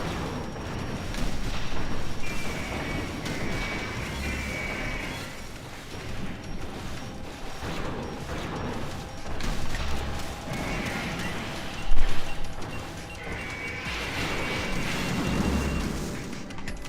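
Grenade launcher fire and explosions from Metal Gear Solid 2 rumble through a dense, continuous wash of game noise, with heavy thuds recurring and one sharper blast standing out near the end; no one speaks.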